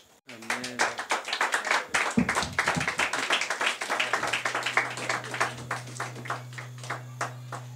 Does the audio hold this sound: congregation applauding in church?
yes